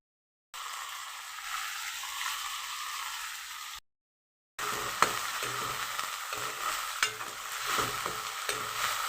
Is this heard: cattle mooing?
no